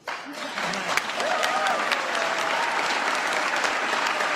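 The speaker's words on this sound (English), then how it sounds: "That applause goes on for a long while" An audience breaks into long, sustained applause after a political speech line about voting. The clapping swells within the first half second and stays dense, loud and steady, with faint voices underneath.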